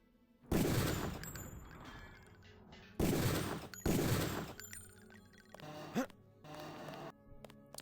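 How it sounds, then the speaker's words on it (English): Explosions burst in the video game Deus Ex, with several loud, broad blasts in quick succession, each decaying into rumbling debris, followed by softer impacts and game sounds. "Huge explosion! Huge success!"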